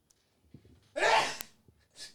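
A single loud sneeze bursts out after a quick inhale, followed by a brief exhale, close and otherwise quiet.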